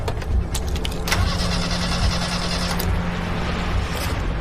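A car driven in by a new driver idles near a police parking spot, a steady close engine hum running throughout with a few sharp clicks and thumps on top.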